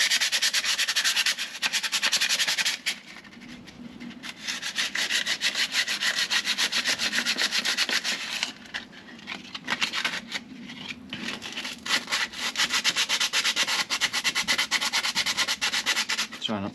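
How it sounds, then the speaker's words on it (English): Sandpaper rubs back and forth over a rusty MGB rear axle in steady, close, loud strokes, with a few short pauses in between. "just going to give it a bit of a sand"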